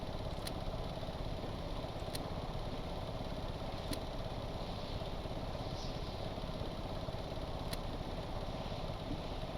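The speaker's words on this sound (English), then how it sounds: "You can hear it start to make that drilling noise." An iron-mining vehicle drills in the game Stormworks with a steady, low, grinding machine drone, even and unbroken, with a few faint clicks on top and no talking.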